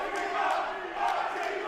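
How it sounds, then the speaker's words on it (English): A wrestling crowd at a Rocky Mountain Pro show chants loudly for the newcomer Atiba, a dense roar of many voices with rhythmic swells, close and sustained with no commentary over it. "the crowd is going absolutely ballistic right now for the newcomer, Atiba"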